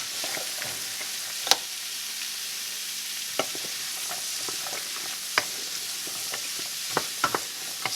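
Chopped vegetables sizzle in a hot pot for turkey noodle soup, a steady frying hiss broken by occasional sharp clicks and scrapes from a stirring spoon, close and unaccompanied by voices.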